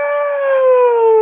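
A voice imitates a siren by mouth with a sustained, loud, clear tone that slowly slides downward, like a wailing howl held in one breath.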